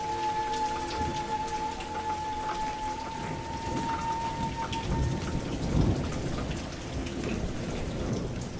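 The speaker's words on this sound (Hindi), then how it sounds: "पता नहीं बारिश कब रुके।" Heavy cartoon rain pours steadily with rolling thunder rumbling throughout, a dense continuous downpour with a low roar swelling around the middle.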